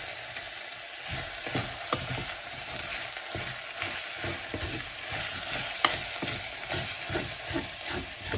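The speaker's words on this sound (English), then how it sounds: "And I will stir that up" Sloppy Joe mixture of ground meat and onion powder cooking in a pan, a soft continuous sizzle with repeated scraping strokes of a spoon stirring it, fairly quiet and close.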